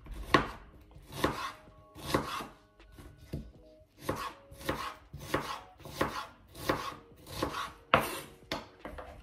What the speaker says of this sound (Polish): cebula w grube plastry